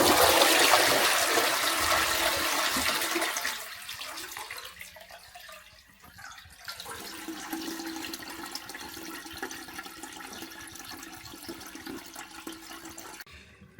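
A newly installed WC toilet cistern flushes loudly up close with a strong rush of water, then settles into a quieter refill hiss and trickle.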